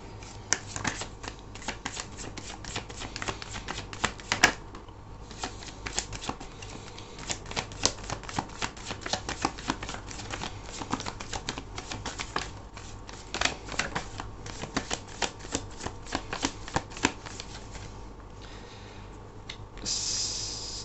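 Tarot cards are shuffled by hand close up, a long run of rapid crisp riffling flicks and soft slaps in an uneven rhythm, fairly quiet with no voices.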